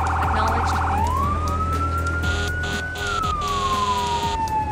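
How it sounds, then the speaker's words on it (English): Emergency vehicle sirens in the Firefighting Simulator: The Squad video game, a loud close wail that shifts from a rapid yelp into a long rising and falling tone over a low engine rumble. "Turn them sirens off."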